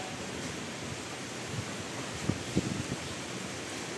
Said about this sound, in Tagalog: Mahangin, maulan.